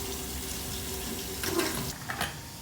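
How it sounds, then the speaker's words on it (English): Cold tap water runs steadily over a pressure cooker holding cooked drumstick leaves, a continuous hiss of flowing water in a kitchen sink with a couple of brief splashy surges. "keep my pressure cooker under cold running water and release the pressure immediately"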